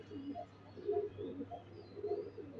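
A newly paired pair of pigeons coo repeatedly just after release, soft rolling calls rising and falling in a steady rhythm, close and fairly quiet, with no talking.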